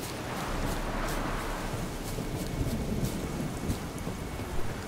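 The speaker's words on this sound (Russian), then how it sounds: "Гроза надвигается." Heavy rain pours in a thunderstorm in The Witcher 3 video game, a dense continuous wash with low rumbling thunder underneath and a few sharper cracks, with no talking.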